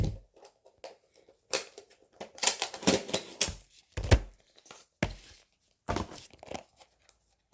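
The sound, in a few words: peeling a label off a diamond painting storage box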